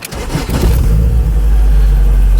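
A supercharged Honda Civic Type R EK revs hard and loud up close, its engine note climbing and then holding steady with a heavy low rumble throughout.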